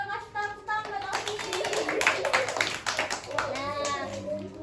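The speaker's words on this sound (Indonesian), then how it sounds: "Kasih tepuk tangan buat Ovi." A group of children claps together in a classroom during a lesson, a dense burst of applause lasting a few seconds, with a teacher's voice speaking just before and after.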